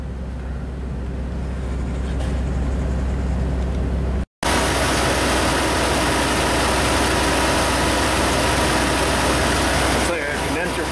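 A Dodge truck idles with its AC condenser fan running, a loud, steady engine drone and broad fan whoosh with a brief dropout partway through, continuing unchanged after it.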